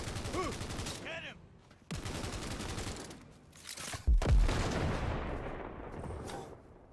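Gunfire in Cyberpunk 2077 in bursts of rapid shots with bullets whizzing past, including a loud heavy impact near the middle, with voices talking over parts of it.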